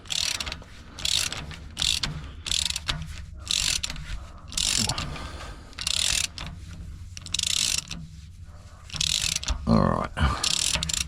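Ratcheting and clicking of a wrench working old, factory-tight bolts on a VZ SS Thunder during a crank sensor change, with repeated bursts of metallic clatter and ratchet pawl clicks, fairly close and steady throughout.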